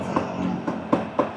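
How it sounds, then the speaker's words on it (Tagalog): Knife strikes on a large chopping board cutting grilled meat at a Kapampangan food stall in San Fernando, Pampanga, giving four sharp, evenly spaced chops over a steady background din. "Yung tunog ng chopping board parang almost hypnotic."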